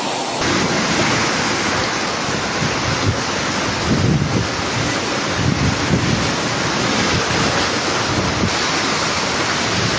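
Strong wind from Super Typhoon Uwan roars across the microphone alongside crashing high waves in the Philippines, a dense, loud, unbroken rush of noise lasting the whole stretch.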